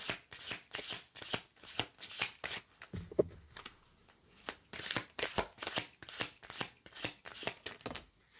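Oracle cards being shuffled up close, a quick run of crisp riffling slaps and flutters with a short pause midway, loud and alone without talk.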